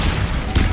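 The Bombarda spell goes off in Hogwarts Legacy as one short, loud, booming burst that fades quickly.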